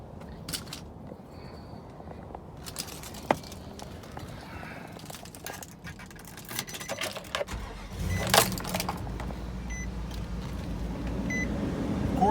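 A 2005 Nissan Armada SE is started: keys jingle and a brief warning chime sounds, then the V8 cranks and catches, settling into a low, steady idle that grows fuller toward the end.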